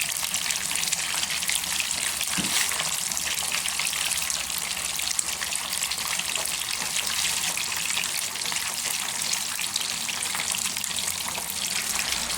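Bangude (mackerel) fish with a coating frying in a pan, a steady dense sizzle and crackle of hot oil that stays constant and close throughout, with no talking.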